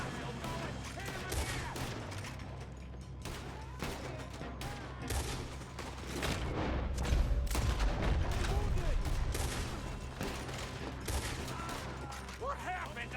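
Sustained gunfire during a robbery in the Western video game Red Dead Redemption 2, dense overlapping shots and rumbling booms filling the scene continuously, with a voice talking over the shooting at times.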